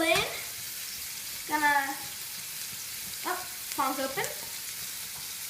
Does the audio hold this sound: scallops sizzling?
yes